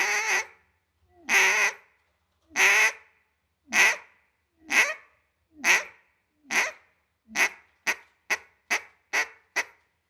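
A hand-blown duck call sounding a series of quacking notes, spaced at first and then quickening into shorter, clipped blasts, loud and close with silence between each note.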